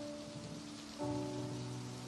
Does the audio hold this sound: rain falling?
yes